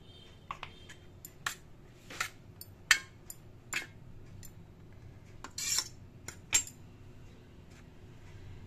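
Spoon clinking against a dish while mixing pea chaat with coriander and red chilli, a series of light separate metallic taps and scrapes at an irregular pace, close and fairly quiet, with no talking.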